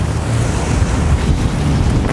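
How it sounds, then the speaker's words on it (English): Strong wind buffeting the microphone outdoors, a loud continuous rumbling roar that fills the whole stretch with no voices. "Freaking wind."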